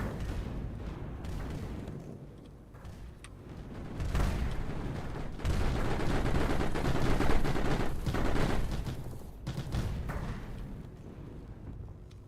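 Rockets firing in the game Mindustry: a long, dense barrage of rapid launches and explosions, steady and loud throughout with a few brief dips, and no talk over it.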